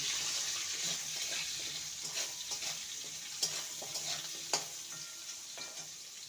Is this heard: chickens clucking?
no